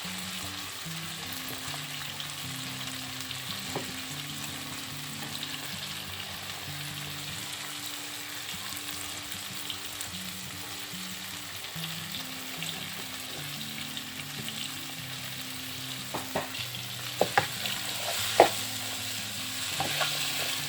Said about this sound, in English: And kind of saute them a little bit.